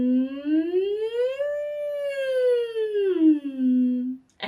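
Human voice imitating a siren during a vocal warm-up exercise, a single smooth glide from low up to a held high pitch and back down again, clear and solo.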